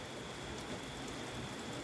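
Steady rain falls through a windy day, a dense even hiss of drops close around with no pauses and no voices.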